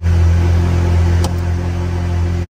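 Engine of an old Ferrari being rebuilt, heard while driving and shifting gears: a loud, steady drone with a brief dip at a gear change midway, close to the microphone.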